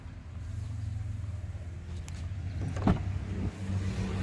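Power window motor on a Suzuki Hustler, a low steady electric whir with a brief clunk near the end of its travel, heard up close inside the vehicle.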